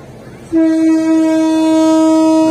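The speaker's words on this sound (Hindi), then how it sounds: "हमारी ट्रेन आ गई है, हम उसमें बैठ गए।" A train at Tando Jam railway station sounds a loud, steady horn that starts about half a second in and holds unbroken to the end over low rumbling.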